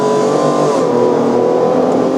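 A police Tesla Model 3 with some fault drives with a raspy, rally-like drone, a steady loud tone that rises slightly throughout, with no voices.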